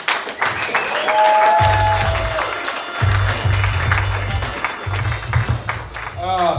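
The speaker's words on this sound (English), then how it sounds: "Big round of applause for my good friend," A comedy club audience applauds and cheers for stand-up comedian Evan Willey coming on stage, a loud, close round of clapping with whoops and crowd noise, broken by bursts of low amplified voice over the sound system.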